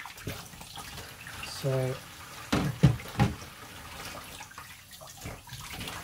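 Cold press juicer parts are rinsed under running water, a faint splashing and trickle with a few louder knocks and bumps as the parts are handled, and a brief spoken word near the start.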